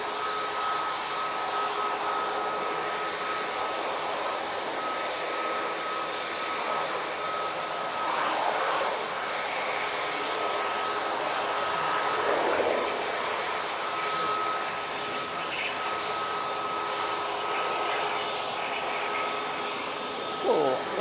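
An Airbus A320neo jet airliner departs Manchester Airport for London Heathrow, its engines a sustained, even roar that swells slightly midway and continues without a break.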